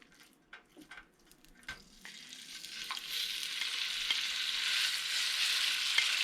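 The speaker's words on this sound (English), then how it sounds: "And bring the pan to really hot. All right, put the beef in." Beef dropped into a very hot pan with a little oil, a few soft clinks first, then a sizzle that swells and holds loud and steady.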